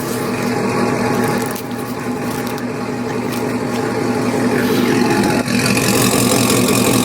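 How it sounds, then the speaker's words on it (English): A truck engine idles through its exhaust with a steady low rumble and mechanical ticking, holding an even, close sound with a slight rise in level toward the end. "Got that nice exhaust."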